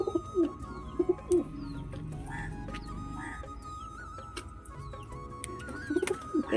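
Pigeons eager for food give soft repeated coos and low calls close by on a rainy morning, over steady background noise from the rain.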